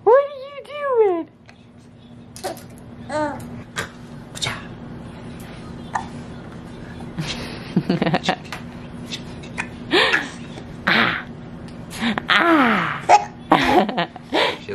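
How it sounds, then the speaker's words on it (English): A small excited child hiccups repeatedly at home, sharp short vocal bursts scattered among her babbling and an adult's talk, close and fairly loud. "You got the hiccups."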